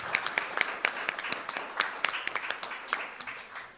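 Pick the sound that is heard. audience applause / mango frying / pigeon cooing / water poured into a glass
audience applause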